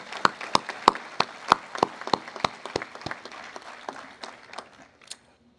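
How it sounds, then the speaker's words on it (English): Audience applause at a Memorial Day ceremony in Mission Viejo: scattered, sharp individual claps ring out in an uneven rhythm, fairly close and clear, thinning out toward the end with no voices over them. "Can we please get a round of applause"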